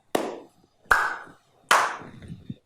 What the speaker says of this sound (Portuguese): No terceiro exemplo, são 4 dedos sobre a palma da mão